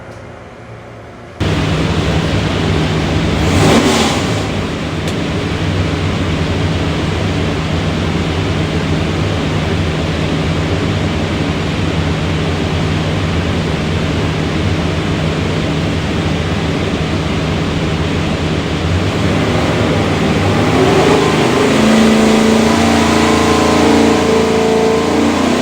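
A 427ci small block Ford with a custom grind hydraulic roller cam and front sump oil pan roars on a dyno for John's '67 Mustang, a loud sustained engine run that climbs steadily in pitch under broadband exhaust roar.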